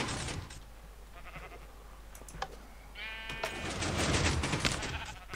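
Sheep bleating in the Minecraft video game, one clear wavering bleat standing out over scattered clicks and a soft hiss that grows louder toward the end.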